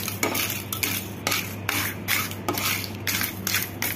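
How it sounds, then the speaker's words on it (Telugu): Dried red chillies are lightly fried in a pan, with rhythmic scraping and stirring strokes of a spatula against the metal over a faint sizzle and a low steady hum. "లైట్ గా ఫ్రై చేసుకోండి ఎండుమిర్చిని"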